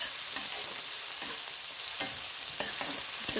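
Chopped onions frying lightly in a pan for a koi fish and Malabar spinach dish, a constant bright sizzle with occasional soft stirring scrapes, close and steady.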